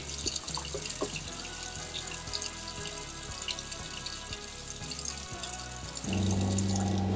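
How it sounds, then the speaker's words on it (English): Water flows and drips in an RV or van conversion water system, then the electric pump kicks in near the end with a steady, louder tonal hum over the running water. "And only now the pump is working."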